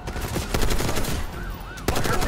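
Enemy machine gunner firing a sustained burst in Call of Duty Black Ops 6, loud rapid automatic fire filling the whole moment with a brief break near the end before shots resume.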